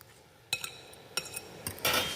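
Butter being stirred into a cheese mixture, heard as a few separate clinks and scrapes of a utensil against a bowl, close and fairly quiet, with no talking.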